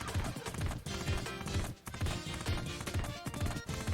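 Galloping horse hooves in a horse racing video game, a fast, steady rhythmic clip-clop pounding under a busy layer of background game sound, with a brief dip partway through.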